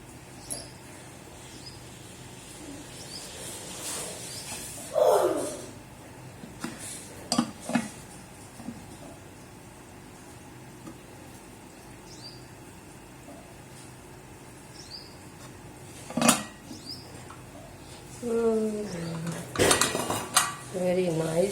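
A spoon scrapes and clanks against a metal cooking pot while aloo gosht is served out, with scattered sharp clinks and rattles separated by quiet stretches, and a voice heard faintly at times.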